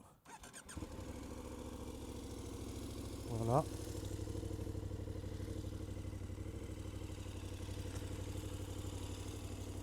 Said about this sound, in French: on va écouter le bruit du moulin